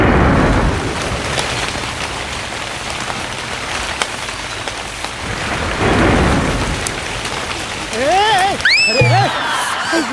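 Steady rain pours with rolling thunder throughout a comedy skit, loud and continuous, while people speak over it and a few bright whistle-like effects rise near the end.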